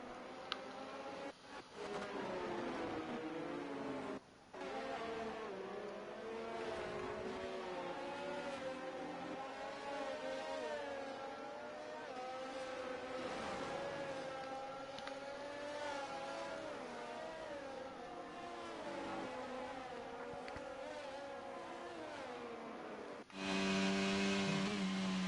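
A race car engine drones steadily around a circuit at a China race, its pitch rising and falling through gear changes, with a louder, closer burst near the end.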